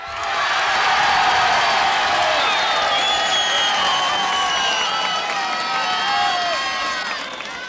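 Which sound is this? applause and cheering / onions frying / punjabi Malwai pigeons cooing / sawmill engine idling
applause and cheering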